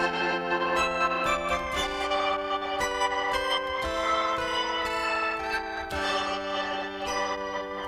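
Sustained string patch run through a Sonicware Texture Lab granular effects processor, layered chord tones shifting every second or so with a shimmering, grainy top, steady and fairly loud with no talking.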